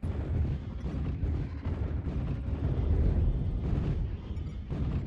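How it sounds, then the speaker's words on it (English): Artillery strike in the mech combat video game MechWarrior Online, a continuous low, rumbling barrage of booming impacts that swells and rolls for several seconds with no talking. "Artillery."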